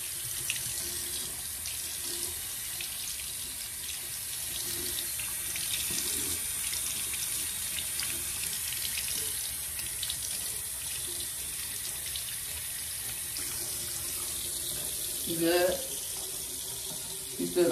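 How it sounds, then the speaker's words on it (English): Tap water runs steadily from a sink faucet as a steady broadband hiss, close and continuous, while someone rinses soap from an eye; brief voices speak near the end. "Try to get all the way in there so you can let the water run on your eye."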